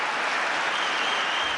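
Audience applause in Riyadh during a two-day visit, a dense, steady round of clapping from a large crowd, loud and sustained throughout with no voices over it.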